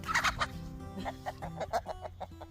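Several chickens cluck in a steady, overlapping series of short calls, fairly close, with a faint rooster-like call mixed in toward the end.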